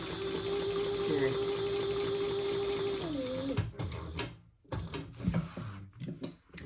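A sewing machine stitches a clutch bag with a fast, even mechanical whir and tapping for about three and a half seconds, then slows and stops, leaving quieter handling clicks and rustles close by.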